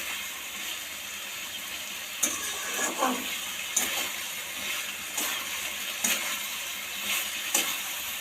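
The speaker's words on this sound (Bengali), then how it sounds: "এবার এই যে মশলাটা দিয়ে একটুখানি কষে নিচ্ছে" Ground poppy seed spice paste is stir-fried for a vegetarian bottle gourd and spinach curry, a soft continuous sizzle with regular spatula scrapes and knocks against the pan every second or so.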